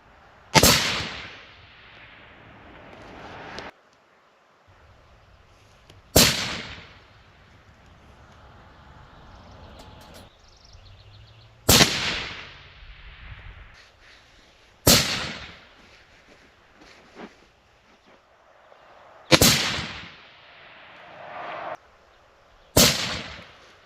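Rifle shots fired at a golden target on a range: six loud, sharp reports spaced several seconds apart, each trailing off in a rolling echo, with quiet outdoor background between.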